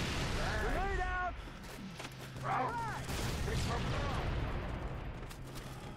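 Grenade blast and gunfire from the Halo 3 ODST video game, a dense, loud battle din under layered voices and radio-like chatter, with a low boom swelling midway.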